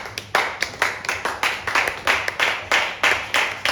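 A church congregation claps in quick regular unison beats, a bright, close burst of many hands repeating about three times a second without pause.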